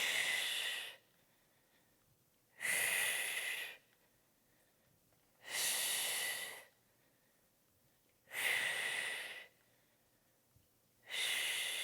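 Paced breathing during squat exercises in a prenatal lower-body workout, five loud breathy inhales and exhales recurring about every three seconds, close to the microphone with quiet gaps between.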